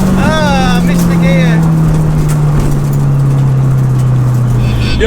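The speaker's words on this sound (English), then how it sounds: "there's too much wheel spin here today for me" A loud 500HP turbo race car drones at sustained high revs with a slowly falling engine note, and a brief rising whine near the start.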